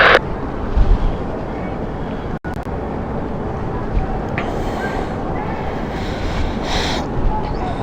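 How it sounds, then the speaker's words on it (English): A Zurich-bound airliner takes off from runway 27 at London City Airport with a steady, broad jet roar that holds loud and even throughout, like wind rushing past. "Here's our next departure, which is the Zurich flight."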